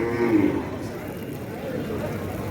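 A local Bangladeshi cow lowing at a busy cattle market, one low moo near the start over a constant crowd murmur and background chatter.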